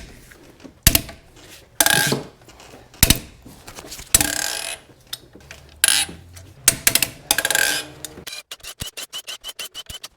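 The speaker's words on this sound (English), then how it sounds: "Now we can start busting our head bolts loose." 15 mm head bolts being broken loose on a Chevy Cobalt engine during a head gasket job: a series of sharp ratchet clicks and metallic clanks in bursts, close and loud, ending in a quick run of rapid ratcheting.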